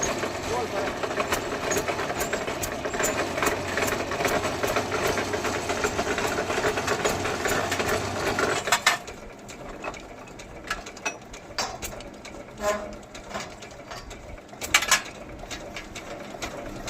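A borewell motor being pulled up from a well drones and hisses loudly and steadily for about half the time, then drops to a quieter rumble with scattered knocks and clanks.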